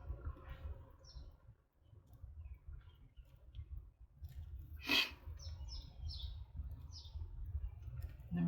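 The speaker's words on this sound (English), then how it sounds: "And we have loud birds again today." Sparrows at a nearby birdhouse outside a door, chirping in short bright bursts scattered over a low steady indoor hum, moderately faint and with no voices.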